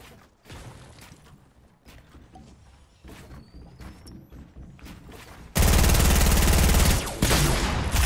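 Compact SMG fire in Fortnite gameplay, with scattered rapid bursts of shots early on and then a loud, sustained stream of automatic fire near the end, close and dense.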